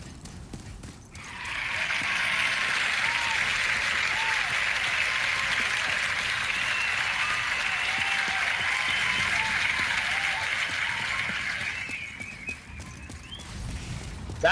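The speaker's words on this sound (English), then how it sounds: "That audience apparently that's clapping nonstop did not eat their turkey" Sustained crowd applause from an audience, a dense steady wash of clapping that continues nonstop for over ten seconds before tapering slightly near the end, with no talk over it.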